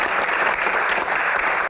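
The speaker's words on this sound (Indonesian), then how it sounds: "Tepuk tangan dulu biar semangat." Audience applauding during a Q&A session with a head of Hajj supervision, dense, sustained clapping from a crowd that cuts off abruptly at the end.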